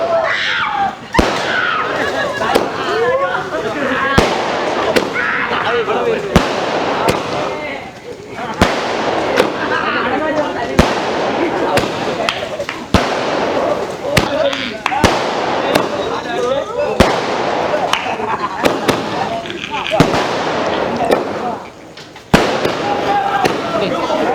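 A long string of firecrackers bursts in rapid, uneven pops and bangs, with people's voices faintly mixed in.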